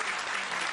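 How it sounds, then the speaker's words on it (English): Studio audience applause on a talk show, a dense steady wash of clapping filling the whole moment at close range with no voices over it. "Why are y'all clapping for this shit?"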